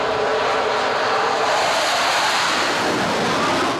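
A Rafale jet is steam-catapulted off the French aircraft carrier Charles de Gaulle, a loud, continuous, roaring jet blast that fills the whole moment at close range.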